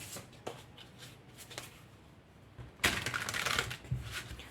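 Tarot cards shuffled by hand in a quiet room: soft papery riffles and taps early on, then a louder, denser burst of rapid card shuffling near the end.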